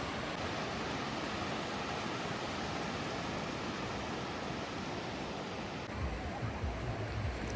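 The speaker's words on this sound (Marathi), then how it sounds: "मित्र समुद्राची गाज आपणास ऐकायला येत असेल" A continuous wash of surf rolls on Awas beach near Alibag, a soft, steady broadband roar without distinct breaks, fairly distant and quiet.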